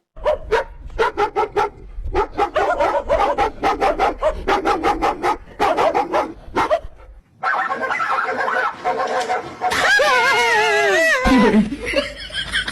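A dog barks in rapid repeated bursts, loud and close, for several seconds. Noisier sounds follow with what resembles laughter and a voice.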